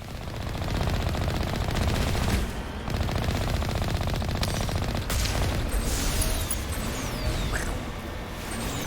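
Sustained automatic gunfire peppers the Mako vehicle in the video game Mass Effect Legendary Edition, a dense, loud rattle of rapid shots with heavy booming impacts, continuing almost without pause and dipping briefly before resuming.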